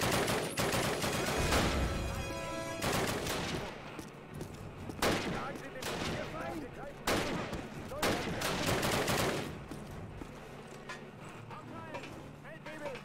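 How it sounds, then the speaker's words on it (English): MG42 machine gun fire in Call of Duty: repeated bursts of rapid gunfire crack out at intervals over a busy battlefield, fairly close and loud, with someone talking between and over the shots. "Freaking MG42 here."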